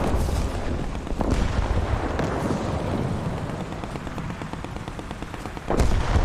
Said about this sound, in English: Oh, no, I hear him shooting